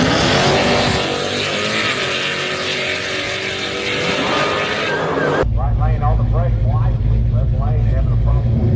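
Loud, roaring engine of a Mopar drag race car blasting down the strip at a drag racing event, harsh and dense throughout, then cutting to a lower, rumbling engine drone with wind buffeting and a voice speaking over it.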